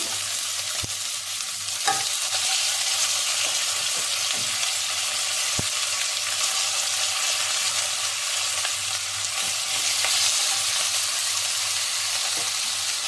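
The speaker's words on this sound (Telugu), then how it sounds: "ఇది కూడా బాగా ఫ్రై అవ్వాలి." Chicken fries in butter in a pan for Arabian chicken kabsa, a steady close sizzle with occasional sharp clicks of stirring and no voices.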